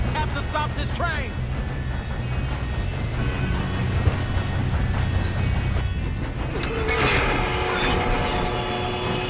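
Moving train in Red Dead Redemption 2 rumbles steadily with rattling wheels and brief metallic squeals, loud and continuous, mixed with game effects and bursts of noise.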